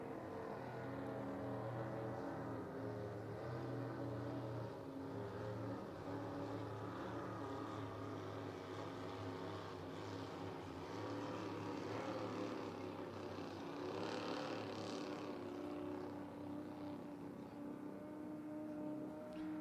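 Racing powerboat engines, one of them a small block Chevrolet, drone steadily from a distance at a regatta, with a continuous layered roar that swells slightly as the boats run.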